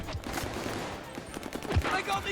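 Rapid gunshots crackle in Call of Duty Vanguard as a busy stream of sharp reports at close range, mixed with someone talking.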